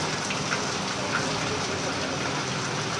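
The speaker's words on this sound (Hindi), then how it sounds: "लेकिन जिस तरीके की बारिश होनी चाहिए थी उस तरीके की तो ये बारिश नहीं है।" Steady rain falls over Barmer city in western Rajasthan, a dense, even hiss of drops on surfaces throughout, close and continuous with no voices.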